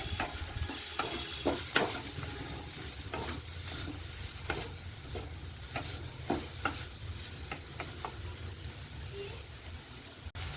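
Wheat cutlet mixture stirred in a pan, with repeated spoon scrapes and knocks over a steady low sizzle, close and moderately loud, with no talk.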